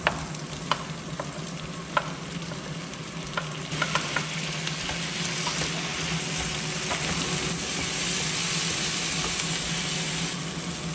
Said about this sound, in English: we are going to saute this for about a minute before we add in our tomatoes